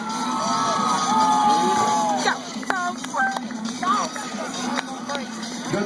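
Crowd cheering and shouting at a motocross show at Myrtle Beach Speedway, a loud steady roar of voices with whoops rising over a low engine drone, some nearby talking mixed in.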